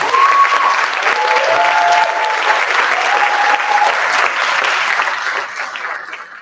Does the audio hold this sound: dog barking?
no